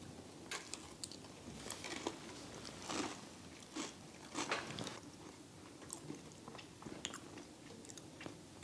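Someone bites into an oatmeal cookie and chews it up close, producing repeated crisp crunches and softer moist chewing at an irregular pace, faint and intimate.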